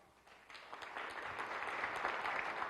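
Audience clapping for Obama at a political-language panel starts softly and swells into a fuller, sustained round of applause that holds to the end.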